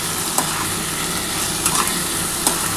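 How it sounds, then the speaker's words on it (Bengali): A spice masala with a pinch of sugar is stir-fried in a pan for a lentil-dumpling curry, giving a loud, close, steady sizzle with occasional scraping strokes of the spoon. "দিয়ে ভালো করে এবার মশলাটা কষাতে হবে"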